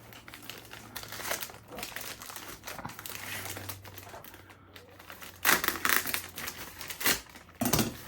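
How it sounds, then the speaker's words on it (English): Plastic bags crinkle and crackle while an 8-bit home computer is unboxed, irregular near bursts of rustling that grow louder toward the end, with little or no talking. "Hey, plastic bags."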